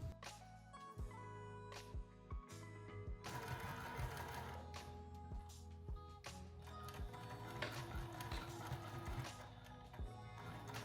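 A sewing machine runs steadily while stitching the side seam of a lounge pant, with a rapid mechanical chatter broken by a few brief stops and sharp clicks, close and continuous.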